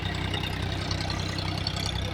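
A tractor engine ploughing a farm field, its low steady diesel drone running continuously at moderate distance, with no voices.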